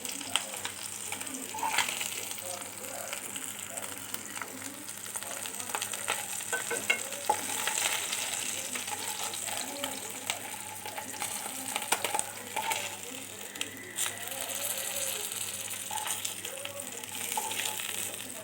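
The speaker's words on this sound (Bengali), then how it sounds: "তো দেখতেই পাচ্ছেন মাছগুলো আমার ভাজা হয়ে গিয়েছে।" Tengra fish fry in oil in a pan, a sustained moderate sizzle and crackle with intermittent clinks and stirring scrapes over about eighteen seconds, steady throughout with no speech.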